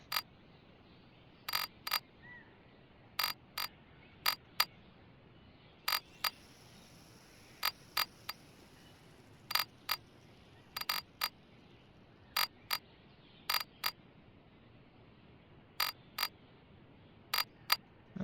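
Sharp, isolated clicks come in small irregular bursts from a wrench as the six engine bolts are tightened on an inline-six truck engine, over a quiet background with no talk.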